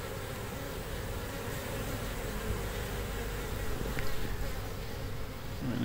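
Honeybees buzz steadily around a hive as foragers return loaded with pollen from blooming red maple, a dense, continuous hum of many wings close by with no voices.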